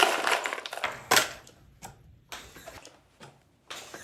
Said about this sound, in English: we're gonna add some ice to this